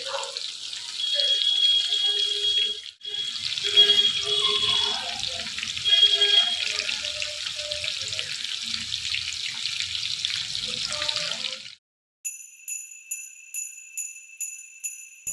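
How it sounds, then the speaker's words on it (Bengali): A first batch of chicken pakoras deep-frying in hot oil gives a steady, loud sizzling hiss for about twelve seconds. The sizzle then stops and a quick run of high electronic beeps follows. "ফার্স্ট ব্যাচের পকোড়া ভাজা আমার চলছে"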